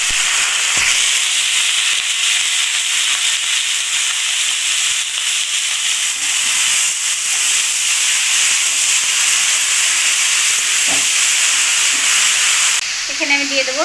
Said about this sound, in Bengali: এখন এই যে এই কলার থোড়টা আমি এখানে ঢেলে দেবো।